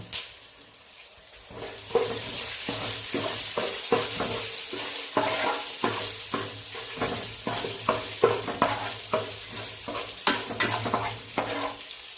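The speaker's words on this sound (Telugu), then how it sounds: "ఇప్పుడు ఇవి సగం వేగాక సన్నగా తరిగిన అల్లం ముక్కలు మిరియాలు ఇవి వేయించుకుందాం" Ginger and peppercorns fry in a pan, starting from near quiet before a steady sizzle rises, punctuated by repeated scraping stirs at a fairly even pace.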